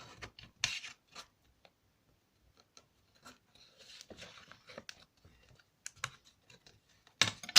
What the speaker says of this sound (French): je m'aide du plioir pour que ça colle bien